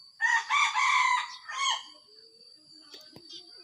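A rooster crows loudly beside a rural chicken coop, the long strained call filling the first two seconds, followed by quieter clucks and scattered fowl sounds.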